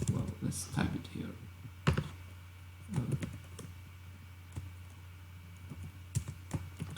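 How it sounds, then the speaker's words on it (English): Computer keyboard typing while entering a Cypher query for a Neo4j graph database, heard as scattered bursts of close key clicks with pauses between, alongside a steady low hum. "well, let's type it here"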